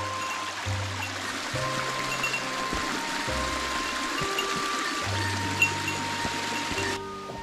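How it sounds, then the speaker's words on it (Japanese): A small mountain stream trickles and burbles steadily nearby while being crossed on a hike, with low tonal thumps from movement over the continuous water sound. "この川、ちっちゃい川渡ります"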